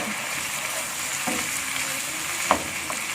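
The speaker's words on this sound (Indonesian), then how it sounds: "kita aduk" Green beans, carrots and shrimp seasoned with mushroom powder are stir-fried in a pan, giving a steady close sizzle with a few light utensil clinks and one sharper knock near the end.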